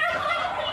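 Turkeys gobbling nearby, a short burst of dense, warbling calls that fills the whole moment with no talk over it.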